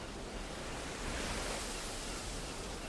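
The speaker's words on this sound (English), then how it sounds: "I guess because it's raining right now?" Rain in the video game Valheim, a dense, steady broadband hiss of falling water that fills the scene evenly, loud and continuous with no voices.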